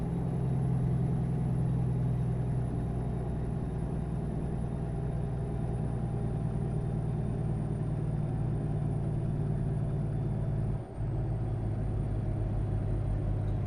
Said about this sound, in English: Truck sounds like a beast. It's got the same motor that I put in all my trucks. That X15 Cummins.